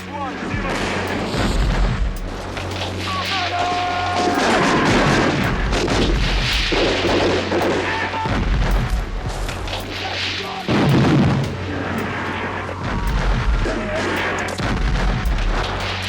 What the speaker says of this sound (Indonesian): serangan artileri ini malah mengenai para tentara Amerika sendiri